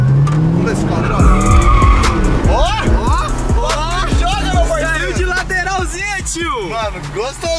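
A new Chevrolet Camaro drifting, its tires squealing and skidding in repeated rising and falling wails over a loud engine, with people talking excitedly over it.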